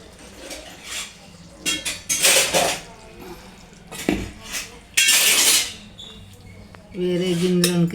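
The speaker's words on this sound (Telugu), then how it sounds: "వేరే గిన్నెలోకి తీసేసుకుంటున్నాను, బౌల్లోకి" A pot of potato curry clanks and scrapes against metal utensils as it is transferred into a bowl, in several loud, uneven bursts of clinking and scraping.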